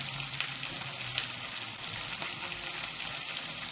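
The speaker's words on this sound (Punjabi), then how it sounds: "ਜਿਹੜੇ ਪਿਆਜ਼ ਇਹ ਤਿੰਨ ਚਾਰ ਸੀਗੇ ਥੋੜਾ ਜਿਹਾ 골ਡਨ ਬ੍ਰਾਊਨ ਕਰ ਲਾਂਗੇ" Three or four onions fry in a pan until golden brown for chole, giving a steady close sizzle with faint crackles and stirring, and no talking.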